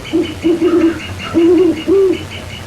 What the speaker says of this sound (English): or talking with a great horned owl.